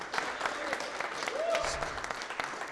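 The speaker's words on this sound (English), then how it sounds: "Give them a big round of applause, guys." Crowd applause at a college all-star cricket closing ceremony between Canada and USA, a short scattered round of clapping with a few cheers mixed in, moderately distant.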